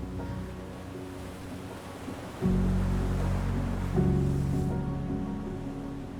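Sea waves and sharp wind around a Scottish lighthouse surrounded by water in sea fog: a continuous rushing wash of surf and wind noise, swelling louder partway through, with no voices.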